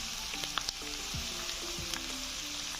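Round tinda gourd frying in oil for a homemade sabzi: a continuous close sizzle with scattered sharp pops and scraping stirs, and no talk over it.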